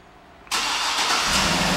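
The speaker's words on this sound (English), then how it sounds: "and the car turns right on." A 2009 GMC Yukon Denali starts by remote start, its engine catching abruptly with a loud broadband whoosh and settling into a steady, close idle with no talking.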